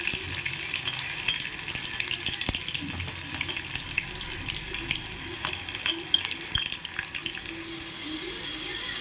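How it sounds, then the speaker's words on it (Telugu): Tempering spices sizzle in hot oil for raw mango pulusu: a steady crackling hiss dotted with sharp little pops, running without pause for about nine seconds, with no talking. "అలా నేను తాలింపు అయితే వేసేసుకున్నాను"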